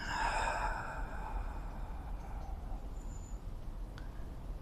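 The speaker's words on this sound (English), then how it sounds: "deep but slow inhale through the nose, and exhale through the mouth" A slow, drawn-out breath exhaled through the mouth during a hatha yoga session, soft and close, with a breathy rush that fades gradually over several seconds, with no talking.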